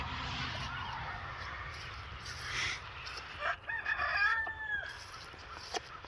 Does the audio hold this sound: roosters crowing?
yes